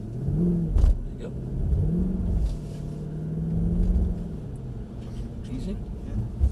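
Mercedes C63 AMG pulling away after hard braking, its engine rumbling and rising in a steady drone beneath a driving instructor's voice throughout.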